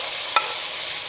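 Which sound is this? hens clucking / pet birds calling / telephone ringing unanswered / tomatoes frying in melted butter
tomatoes frying in melted butter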